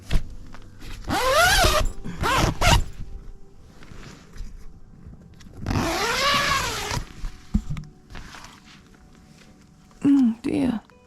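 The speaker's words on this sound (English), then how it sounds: "Something's going on with my zip." A tent or gear zipper worked at a campsite by a misty lake after rain, several quick raspy zips in bursts separated by quiet gaps, close to the listener.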